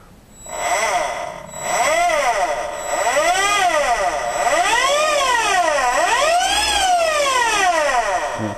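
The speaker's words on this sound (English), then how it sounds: "let's give her a quick blip of the throttle" Electric motor of a BMW EV conversion with a liquid-cooled controller, running on 36 volts from gel batteries, whines up and down in pitch through several loud, close throttle blips in quick succession.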